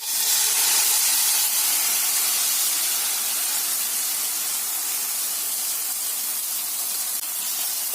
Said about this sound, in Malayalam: മാവ് ഒഴിച്ച് ദോശയാക്കുന്നു.